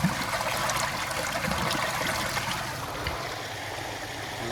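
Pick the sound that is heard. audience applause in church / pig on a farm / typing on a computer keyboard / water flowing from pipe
water flowing from pipe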